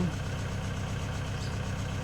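A red tractor engine idles with a steady, low, chugging drone close by, running evenly without change for the whole stretch.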